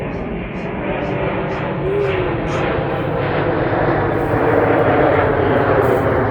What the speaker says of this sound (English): Got a huge plane flying over us.